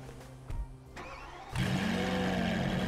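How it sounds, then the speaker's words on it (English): A Lamborghini SVJ with a twin-turbo engine in GTA 5 cranks with a few brief clicks, then roars to life and settles into a loud, steady idle rumble, heard alone. "Let me see what this sound like. I haven't drove the SVJ in a while."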